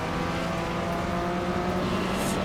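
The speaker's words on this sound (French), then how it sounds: "Alors j'entends beaucoup le son des autres moteurs." Opponents' car engines roar together during a race in Wreckfest, a dense steady drone of revving motors with shifting pitch tones, loud and continuous with no talking.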